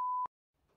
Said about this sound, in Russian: Уведомление пришло.